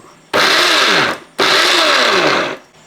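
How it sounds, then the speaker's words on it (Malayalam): A mixer grinder grinds roasted bitter gourd chutney powder in two loud, close pulses of about a second each, each whirring up sharply and winding down, with a short pause between them. "എനിക്കത് നിർത്തി നിർത്തി വേണം അത് പൊടിച്ചെടുക്കാൻ"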